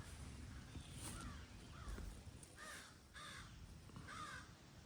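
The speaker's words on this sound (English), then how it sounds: "Blue jays have been squawking up a storm." Harsh blue jay squawks repeat in short bursts, several calls spaced a second or so apart, faint and somewhat distant over soft background noise, on Cape Cod in the rain.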